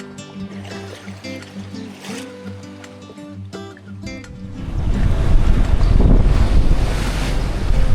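Choppy, confused seas slosh around a sailboat heading towards the Broughton Islands, with wind buffeting the microphone; music plays at first, then the surging, churning water and gusts swell loud and close.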